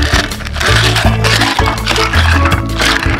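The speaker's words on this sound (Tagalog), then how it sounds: "At buhusan natin ng yelo." Ice cubes pour into a pitcher of lemon iced tea and pineapple juice, clattering and cracking against each other and the container. The rattling runs continuously and loudly for about three seconds at close range.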